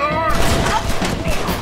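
Gunfire in the Western video game Red Dead Redemption, with loud close gunshots and booming bursts in a quick fusillade. Excited talk runs over the shooting.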